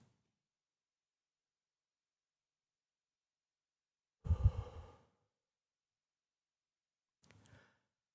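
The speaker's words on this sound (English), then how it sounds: "And now a deeper breath, inhaling, pausing," Members of a congregation at a Unitarian Universalist Sunday service breathe deeply together during guided breathing, with one soft, breathy exhale midway and a fainter breath near the end, otherwise quiet.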